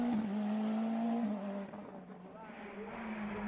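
Nova NP01 race car on a hillclimb course, a steady high engine drone holding one pitch and then dipping slightly mid-run before climbing again, loud and close throughout with a faint background voice.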